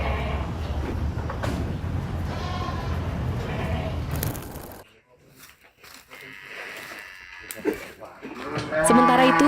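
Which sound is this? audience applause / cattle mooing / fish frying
cattle mooing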